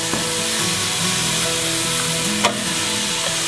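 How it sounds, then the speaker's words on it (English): Onions and garlic frying in oil in a saucepan on the hob, a continuous close crackling sizzle with a faint tonal hum beneath and one brief louder spit partway through, no voices. "you want to fry these off for about 5 minutes until the onions start to go a bit clearer"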